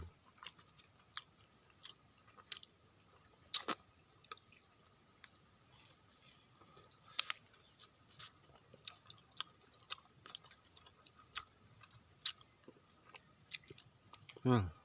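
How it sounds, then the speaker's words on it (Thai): Honeycomb dripping with fresh honey being eaten, with soft wet chewing and sticky squishes and sharp smacking clicks scattered at intervals over a quiet, faintly buzzing background. "จะมากินโชว์เลยน้ำหวาน"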